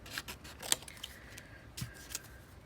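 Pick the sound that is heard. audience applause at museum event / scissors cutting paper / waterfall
scissors cutting paper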